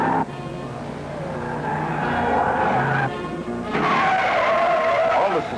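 A 1968 Hurst Olds in high-speed cornering, its tires skidding and squealing loudly in long sustained bursts with a brief break, engine roaring beneath.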